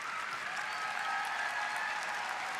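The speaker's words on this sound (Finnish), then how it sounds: "upeasti espoolainen yleisö täällä Metroareenalla kiittää ja kannustaa" Steady, loud applause from the audience at Espoo's Metro Areena after a men's free skate at the Finlandia Trophy figure skating competition, a dense continuous clapping that fills the whole stretch with no talk over it.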